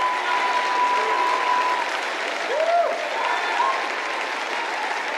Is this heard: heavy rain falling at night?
no